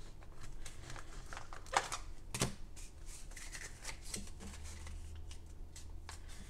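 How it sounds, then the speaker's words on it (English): Cards shuffled and flicked through in a stack while one is picked at random for a cash envelope challenge, soft papery riffles with a couple of sharper snaps, quiet and close with no talking. "I'm just going to pick a random card."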